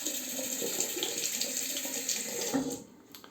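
Tap water runs steadily into a sink as a safety razor is rinsed during a wet shave, a close, continuous splashing stream that cuts off near the end.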